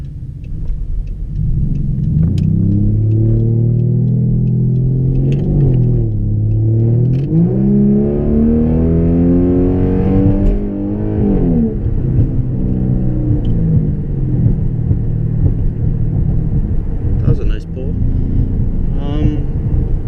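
A 2011 Dodge Charger with a straight pipe exhaust revs loudly and close, engine pitch climbing and falling in repeated sweeps over a steady rumble, with a voice talking over it.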